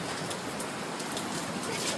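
Heavy rain falls steadily during a hurricane in Miami, a dense, even hiss that carries on without a break for the whole stretch.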